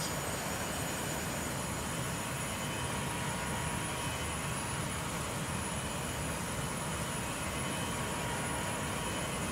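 Steady, loud Boeing 727 jet engine roar in MSFS 2024, a continuous broadband drone with high whining tones, holding constant with no talk.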